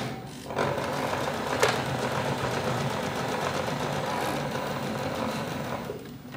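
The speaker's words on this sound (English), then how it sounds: "Put the foot of the needle down and I go forward 3 and backwards 3 to lock in my new thread." A sewing machine stitching a few stitches forward and then backward to lock in a new thread, running as a steady, close mechanical whir with a sharp clack near the start before it winds down.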